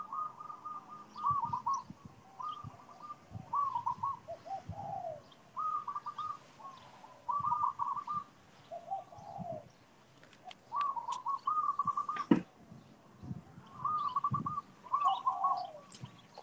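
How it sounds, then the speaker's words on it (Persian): Birds singing outdoors in Hawaii, repeated clear chirping phrases in short bursts with gaps between them, alongside softer cooing, moderately close over a quiet background. "صدای پرنده ها رو میشنوید؟"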